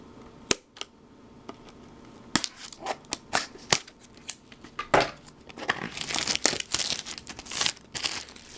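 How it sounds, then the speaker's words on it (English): Scissors snip and crinkle through the plastic wrapper of a Japanese Pokémon Wild Blaze booster box, with several sharp cuts and crackling rustles that grow busier toward the end, close and fairly quiet with no talking. "I have my scissors handy."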